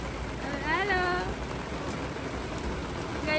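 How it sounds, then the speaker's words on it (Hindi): Heavy rain falls in a steady, dense hiss that fills the whole clip, while a voice talks over the downpour. "गाइस बारिश बहुत हो रही है।"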